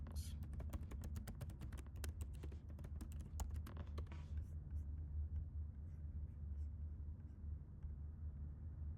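Rapid key clicks on a computer keyboard over a low steady background rumble, the tapping quick and irregular for about four seconds before stopping, leaving only the hum.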